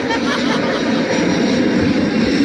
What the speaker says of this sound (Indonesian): Ada pesawat, Pak.